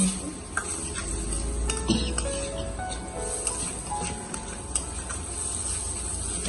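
Dried fish and mixed greens stir-fry in a pan, with a low steady sizzle and occasional light scrapes and ticks of a spoon against the cookware.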